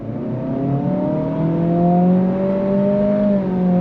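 A 2026 Acura Integra A-Spec in sport mode pulls away from a dead stop, its engine note rising steadily in a clear, loud, close whine with a brief dip partway through, like a simulated gear change.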